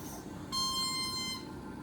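A ProNox medical device alarm: a steady electronic tone with bright harmonics sounds once for about a second, then stops, over a faint background hum.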